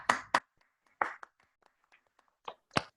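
A few people in a small virtual audience clap sporadically for a speaker after a talk, giving scattered, uneven hand claps with silent gaps between them rather than full applause.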